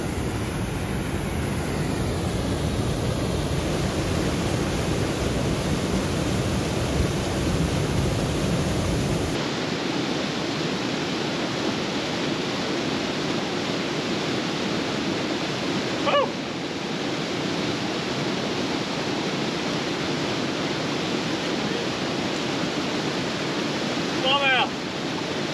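River water pouring out downstream of a cave spring makes a steady, full rushing roar that fills the whole scene, with a faint voice briefly heard over it.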